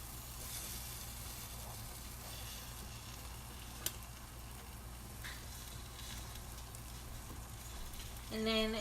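An egg fries in a pan for kimbap, giving a steady, faint sizzle throughout with a few small clicks and a brief rattle near the end.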